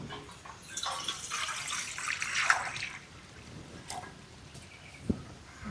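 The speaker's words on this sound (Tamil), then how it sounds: "தண்ணியை ஊற்றுருவோம்." Water poured into a cooking pot set on a lit stove to boil gooseberries, a steady trickling splash that rises and then fades, followed by a small clunk.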